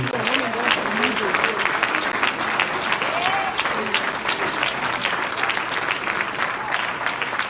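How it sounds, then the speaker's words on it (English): A church congregation claps hands continuously in a dense, lively patter throughout, with a preacher's voice and other voices heard over the applause. "Come on, clap that hand, would you?"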